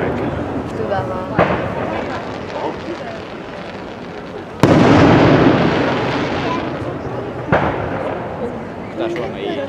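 Fireworks display over Turku, with several booming bursts and crackles, one especially loud blast midway, while people chat nearby throughout.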